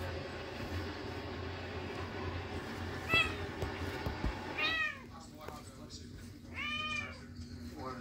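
A cat meows a few times, drawn-out and plaintive, over a low rumbling background with some talk mixed in.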